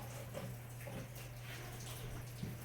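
Hot water runs steadily from a tap while a kitchen is cleaned with bleach after frying catfish, a faint, even wash of flowing water with no talking.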